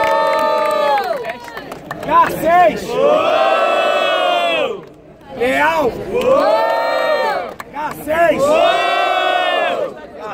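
At a Batalha do Coliseu rap battle, the crowd roars, shouting and cheering loudly in long sustained bursts to vote, with a host calling out names and counting down between the waves of noise.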